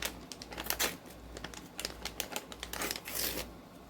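Thin plastic grocery bag being crinkled and torn open by hand, close up, in a series of sharp crackling bursts with brief pauses between them; no voices.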